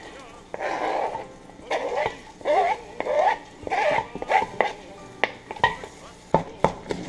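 Hamburger and onion cooking in a pot on a stove, with a utensil repeatedly scraping and clinking against the pot in short, uneven strokes, close by.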